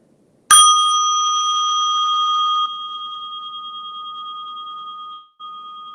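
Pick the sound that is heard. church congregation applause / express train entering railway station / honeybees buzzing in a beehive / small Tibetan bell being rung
small Tibetan bell being rung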